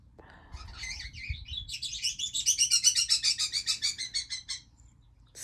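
An indoor pet bird sings a rapid rising series of bright chirps and trills lasting a few seconds, mimicking wild birds outside, close and clear over low background hum.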